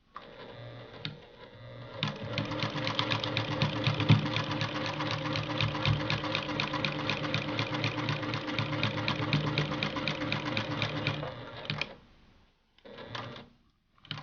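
A sewing machine stitches quilt binding at a longer stitch length, a steady close mechanical whir lasting about ten seconds, then stopping with a few short bursts afterward.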